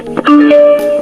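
A karaoke speaker's brief electronic power-on chime: two steady tones, one lower then one higher, ringing out clearly and close, with no talking.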